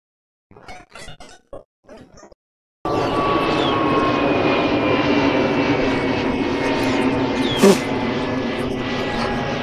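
An airplane passes overhead in a loud, steady roar of engine noise that starts abruptly and holds to the end, with a few brief sounds like voices just before it.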